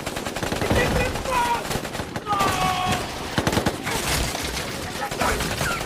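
Gunfire in a film shootout between police and ISIS fighters: loud bursts of automatic fire and rapid shots crackle throughout, with brief pauses, some voices and tonal sounds mixed in.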